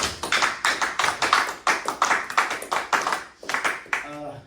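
A church congregation claps in rhythm to acclaim the Lord, steady close sharp claps repeating evenly throughout, with voices speaking or singing underneath.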